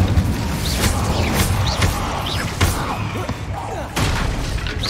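Incendio fire spells cast in Hogwarts Legacy gameplay, a series of sharp whooshing bursts and thuds at irregular intervals over dense game ambience and battle noise, with chirping effects between casts.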